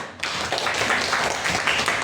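An audience at an Indonesian teachers' coaching session gives a round of applause, a steady dense wash of clapping lasting throughout, moderately loud and close.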